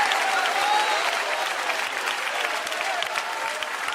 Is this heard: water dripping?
no